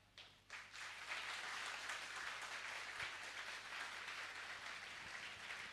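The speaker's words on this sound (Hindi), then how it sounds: "प्रभु के लिए हम कितनी जोर से ताली बजा सकते हैं?" Church congregation at a Resurrection Day service bursting into sustained, energetic applause, a dense wash of many hands clapping that holds steady for several seconds.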